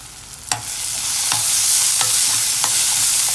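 Chicken roast sautéing with black pepper powder in a pan: a steady loud sizzle throughout, broken by several sharp spoon scrapes and stirs at irregular intervals.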